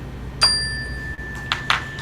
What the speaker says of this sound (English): Shall I ring the bell?